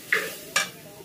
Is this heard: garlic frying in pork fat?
yes